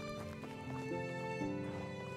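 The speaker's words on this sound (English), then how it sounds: "Ooh, this is where you get horses" Horse hooves clip-clopping in the medieval village of Medieval Dynasty, soft steady hoofbeats under a sustained droning tonal music or ambience, fairly faint.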